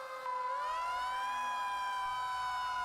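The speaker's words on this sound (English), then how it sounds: "The haunting sound of the town's air raid sirens pierced the air." A wailing siren, read as a town air raid siren during an attack warning, rising and holding a steady piercing tone, loud and continuous, heard alone.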